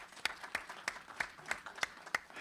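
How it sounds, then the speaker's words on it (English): Scattered audience applause at an economic summit, a handful of sharp separate claps coming at an uneven pace, moderately close and fairly quiet. "Let's give her a round of applause for that contribution."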